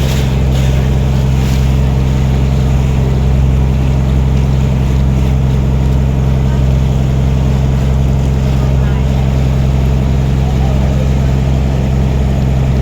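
A tour boat on the Tha Chin River in Nakhon Pathom drones with a loud, unbroken low engine rumble close by, joined by a wash of water noise.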